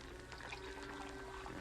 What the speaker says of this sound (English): Pour me another cup of coffee.